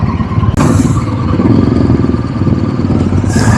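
A convoy of bikers' motorcycles starts off together, a dense, loud, continuous rumble of many engines idling and revving close by, with a couple of brief hissing bursts.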